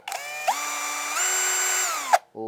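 A DURABIL YT-160AS metal-cutting shear attachment on an electric drill whines up to a steady high-pitched motor drone for about two seconds, then winds down, loud and close.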